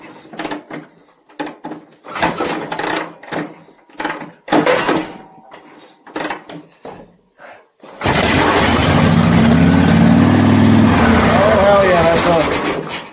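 A 1974 Harley-Davidson Shovelhead motorcycle engine comes to life after a run of scraping, clunking workshop noises, then holds a loud, steady close-up roar for about five seconds.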